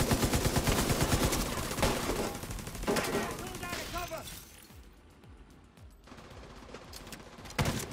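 Rapid automatic gunfire in The Division 2, loud and dense bursts through the first half, thinning into scattered shots and a final sharp blast, with players talking over the shooting.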